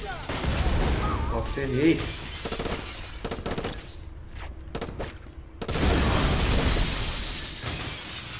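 A grenade blast in the PS2 shooter Black: sharp, crashing bursts of game explosion and debris, with a quieter gap before a second loud rumbling surge, while a player talks over the action.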